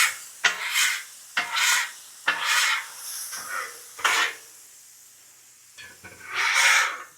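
A metal scraper is pushed across a hot cheesesteak flat-top grill in repeated harsh strokes, about six or seven separate scrapes with short pauses between them, close and fairly loud.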